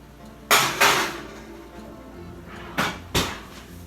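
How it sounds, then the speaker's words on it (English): A cake pan goes into a kitchen oven with a few hard clunks, a pair of thuds close together, then a pause and two more, like the oven door and rack knocking, with no talking. "I'm going to put this in the oven while I get the rest of the stuff ready"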